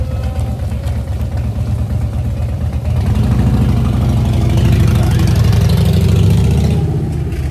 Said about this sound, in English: Let me let this motorcycle man go by first.